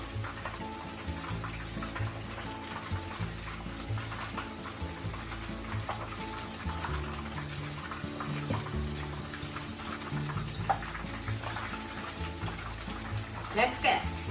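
Shrimp tempura frying in hot oil gives a steady, soft sizzling hiss that runs throughout, with a few brief clinks near the end.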